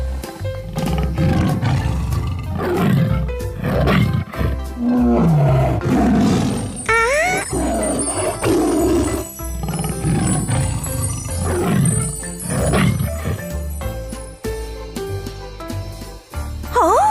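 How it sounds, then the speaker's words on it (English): A loud tiger roar comes in several long, rumbling bursts, layered over bright playful music and cartoonish effects in a children's farm-animal learning toy setting. "Tiger."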